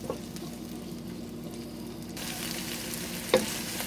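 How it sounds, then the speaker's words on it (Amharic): Chopped onion sizzles steadily in a hot pan for a green beans and carrots dish, with a soft stirring scrape and a brief clatter near the end. "ያ ሽንኩርቱን ትንሽ ጠብሰዋለሁ።"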